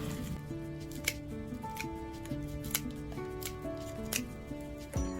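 Scissors cut through clumps of scallion bulbs, making about four crisp, close snips spaced a second or so apart over quiet handling rustle.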